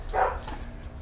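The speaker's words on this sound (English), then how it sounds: "my dog is barking away at me." A dog barks once nearby in a yard, a short single woof that stands out over a low background rumble.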